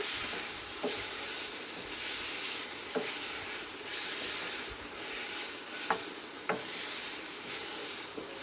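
Masala chicken stir-fried in a pan gives a quiet, steady sizzle with occasional scraping stirs and soft clicks of the utensil against the pan.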